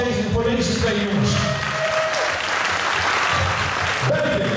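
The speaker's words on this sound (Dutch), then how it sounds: "Mag ik een applaus van deze voor deze twee jongens?" Loud, sustained crowd applause and cheering in a kickboxing event venue, celebrating two fighters after a bout, with a steady roar of clapping from start to end and voices mixed into the noise.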